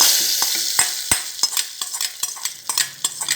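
Cauliflower pongal ingredients sizzle and fry in a pan while a spoon stirs them, with sharp scraping taps at irregular intervals over a steady, close hiss and no talking.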